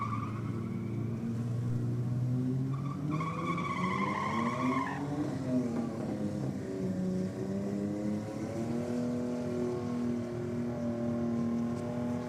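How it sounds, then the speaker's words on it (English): Two Holden Commodore utes doing huge burnouts, engines droning and revving with a long rising and falling tyre squeal, heard from a distance against a constant roar. "Two Commodore Utes, huge big burnouts."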